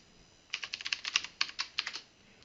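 Typing on a computer keyboard while entering an administrator password during a Windows software install: a quick run of crisp, close key clicks lasting about a second and a half, with no talking.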